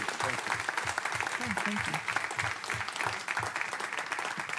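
Applause at a city council meeting for a state senator, fairly faint clapping from the chamber with a voice speaking over it briefly.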